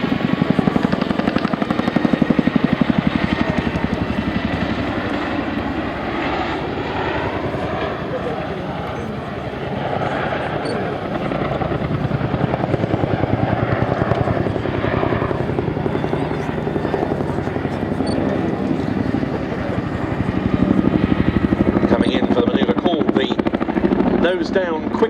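A Chinook helicopter travelling at about 150 mph approaches and pulls a nose-down quick stop, its heavy rotor thump and turbine roar loud and continuous throughout, swelling near the end.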